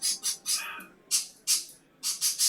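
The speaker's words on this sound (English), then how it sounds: "The birds are saying goodbye." Birds squawk in the video game Baldur's Gate, a series of loud, harsh calls coming in quick irregular bursts with short gaps between them.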